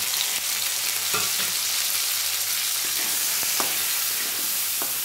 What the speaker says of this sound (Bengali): কাঁকড়াটা একদম ভালো করে ভেজে নেব।